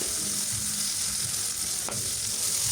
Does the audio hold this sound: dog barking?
no